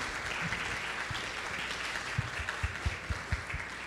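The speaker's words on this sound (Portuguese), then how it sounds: "Eu queria pedir a vocês que estão aqui uma salva de palmas para a Sociedade Criacionista Brasileira" A hall audience gives sustained applause for the Sociedade Criacionista Brasileira at a lecture event. It is a dense, even wash of many hands, with a few louder claps standing out near the end and no voices.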